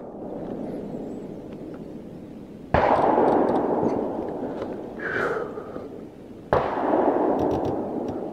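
Rifle shots during barrel break-in come as two loud, sharp reports a few seconds apart, each trailing into a long outdoor rumble over steady background noise.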